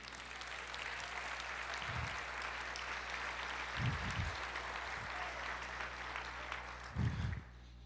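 Steady church congregation applause fills the space, a dense wash of many hands clapping at once, with a few brief low thumps rising above it.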